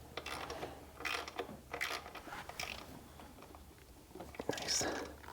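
A ratchet tightens supercharger bolts on a Jaguar F-Type R, its quiet clicking coming in several short bursts, with low voices talking between them.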